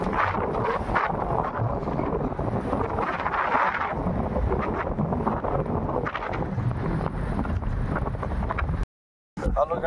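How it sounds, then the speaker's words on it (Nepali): Strong Himalayan wind roars at a mountain top on the Pikey Peak trek, buffeting the microphone with loud, continuous gusts, cut off by a brief dropout near the end. "माथि पुगेपछि झन् हिमालको हावाले झ्याप्पै भेट्दो रहेछ कि झ्याम्मै।"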